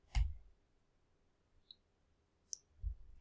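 Several separate computer mouse clicks, crisp and close, spaced irregularly across a quiet background with a couple of low thumps, no talking.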